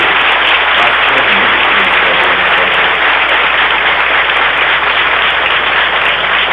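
A crowd at a tribute event for Dom Francisco claps in sustained, dense applause, loud and close, holding steady throughout without a break.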